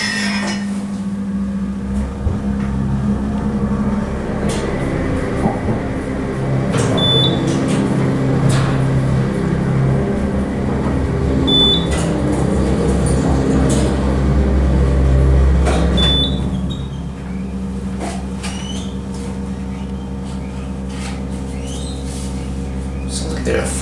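A 3,000-pound-capacity United States hydraulic elevator at a library in Sacramento runs with a steady low drone and hum, with odd squeals, creaks and clunks over it, before the motor noise drops off near the end.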